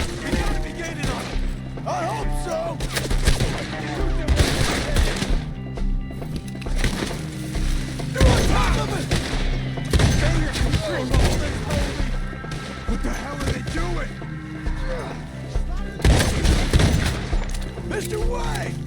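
Gunfire in Red Dead Redemption 2 during a horseback chase: repeated loud shots and bursts come in irregular volleys under shouted dialogue and a driving score.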